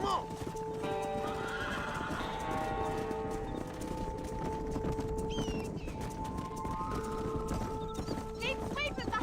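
A large herd of horses in the Red Dead Redemption video game is driven across open country, with steady hoof clip-clop and repeated whinnies and neighs over a dense outdoor bed. Spoken lines run through it.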